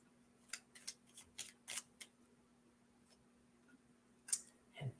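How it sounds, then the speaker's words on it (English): Small cards are shuffled by hand in a quiet room, a run of quick, soft flicking clicks followed by a pause and a couple more riffles, close and faint. "Shuffling these little cards is no easy task, let me tell you."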